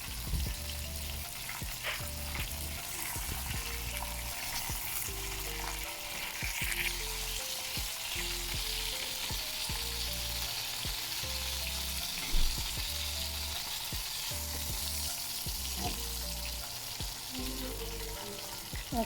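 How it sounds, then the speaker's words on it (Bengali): Chicken shashlik frying in hot oil gives a steady, loud sizzle and crackle throughout, with occasional stirring and clinking of utensils and no talking. "দিয়ে তেলটাকে গরম করে এখন এগুলাকে ফ্রাই করে নিচ্ছি"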